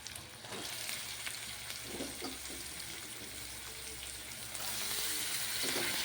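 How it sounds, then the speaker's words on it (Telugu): Mutton tripe fries with masala in a pan, giving a steady, close sizzle with occasional stirring clatter. The sizzle grows slightly louder toward the end. "మసాలాతో పాటు బోటి కూడా వేగుతుందండి."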